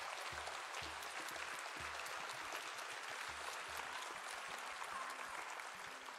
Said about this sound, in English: huge round of applause one more time for them.